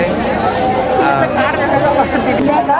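Dense crowd chatter at a Dussehra festival in Chhattisgarh, many overlapping voices forming a steady, loud hubbub close around, with no single voice standing out.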